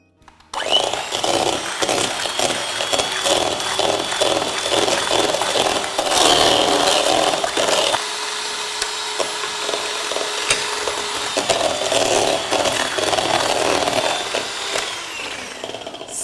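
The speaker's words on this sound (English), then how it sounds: "Slowly, I will start to use a couple of spoons and mix with the eggs." Spoons working mascarpone into creamy beaten eggs and sugar for tiramisù, a close, continuous run of scraping and stirring strokes against the bowl with no talking.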